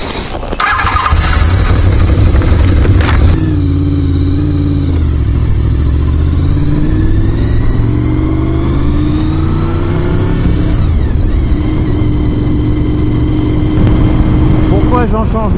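A new motorcycle engine starts with a clattering crank and then idles and revs up and down, loud and close, with someone talking over it.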